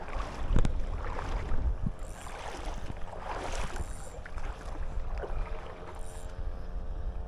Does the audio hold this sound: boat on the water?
yes